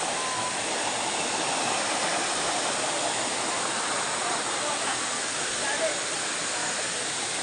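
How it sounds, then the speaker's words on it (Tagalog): Daranak Falls waterfall in Tanay, Rizal roars steadily and close by, a dense unbroken rush of falling water filling the whole stretch with no pauses. "Daranak Falls"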